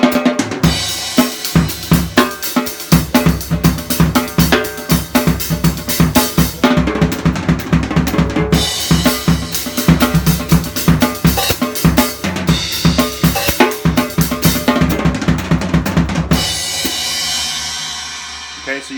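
Drumset playing a 16th note triplet fill in 4/4 that ends with a crash cymbal on beat one, with rapid loud strokes across the kit, a cymbal wash near the end and a decaying ring, no talk.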